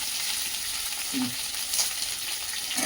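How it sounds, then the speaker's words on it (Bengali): Chopped onions frying in a pan for fried rice give a steady, close sizzle, with a couple of soft stirring scrapes. "হালকা করে পেঁয়াজটাকে ফ্রাই করবো, বেশি ফ্রাই করবো না"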